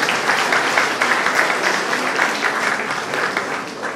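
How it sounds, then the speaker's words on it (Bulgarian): An audience at a humour and satire biennale in Gabrovo claps steadily, a dense, even wash of applause that holds at a constant level throughout. "просто да ръкопляскаме за нея"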